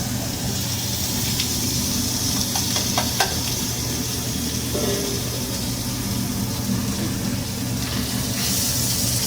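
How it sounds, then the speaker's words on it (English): Chopped vegetables and carrots stir-frying in a hot pan, a steady loud sizzle with faint scraping stirs and clinks, no talk. "Now we're just going to stir fry all of this down a little bit, soften it before we put in any of our noodles"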